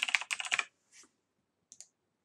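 Quick bursts of typing on a computer keyboard: a rapid cluster of crisp key clicks, then a lone soft tap and a final pair of clicks, close and fairly quiet with no talking.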